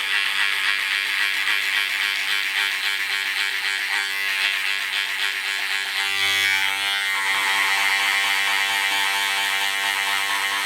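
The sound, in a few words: hair clippers with no guard cutting a skin fade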